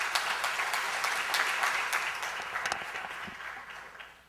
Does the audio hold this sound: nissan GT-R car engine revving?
no